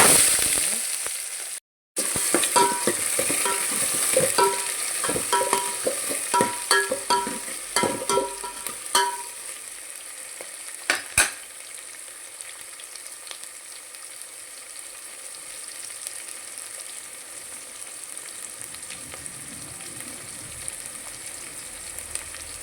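Curry leaves, cumin and onion hit hot oil with a loud crackling burst, followed by spoon scrapes and stirring clatter, then settle into a softer, steady sizzle.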